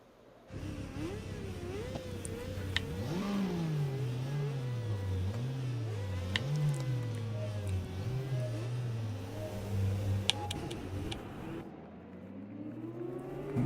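Motorcycle engines in the RIDE 4 racing game roar off the line at a British Superbike race start at Brands Hatch GP, a loud continuous rev that climbs and drops through gear changes for over ten seconds, with no talking.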